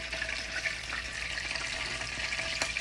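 Whole round red chilies frying in hot oil while tempering for pakora kadhi, a steady close sizzle and crackle with a few sharper pops, no talking.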